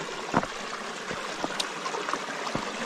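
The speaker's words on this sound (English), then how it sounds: "that lovely little waterfall" Water spills over a small waterfall into a deep, freshly cleaned water hole, making a steady close splashing rush with occasional louder plops and drips.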